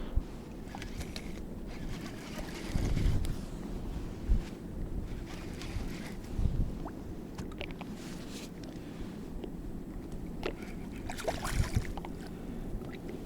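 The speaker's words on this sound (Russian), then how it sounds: "Море уже ветерок такой свежий задувает." Fresh wind gusts over the open Sea of Okhotsk around a fishing boat, a steady rushing roar against the microphone that swells in a few stronger gusts, with low water and hull rumble beneath.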